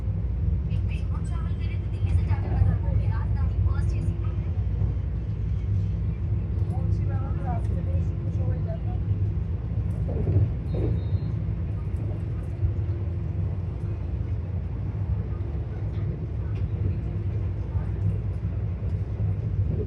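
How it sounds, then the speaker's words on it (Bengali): Continuous low rumble and rattle of an express train from Howrah running at about 127-128 km/h, heard from inside, steady throughout, with people talking over it. "ট্রেন হাওড়া থেকে ছেড়েছে জাস্ট কিছুক্ষণ হয়েছে, মানে অলরেডি 127-128 কিলোমিটার প্রতি ঘন্টায় ছুটে চলেছে"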